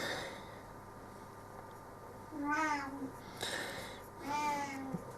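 A pet cat meows twice indoors, drawn-out calls with a quiet pause between them, fairly close but soft against a low hum of room noise.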